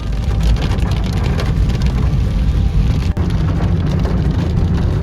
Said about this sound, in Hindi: लेकिन बारिश बहुत ज़्यादा हो रही है